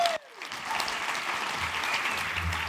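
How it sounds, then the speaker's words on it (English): Applause from an audience at the FTVA Sydney 2023 conference breaks out after a brief pause and carries on as dense, steady clapping from a large crowd. "Give her a massive round of applause"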